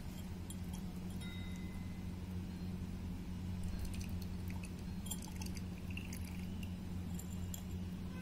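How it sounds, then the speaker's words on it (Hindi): Kala khatta syrup is poured over a shaved-ice gola, a soft, steady trickle of liquid under a constant low hum, with a few faint drips and clicks near the end. "कुछ सिरप ऊपर से भी डालना"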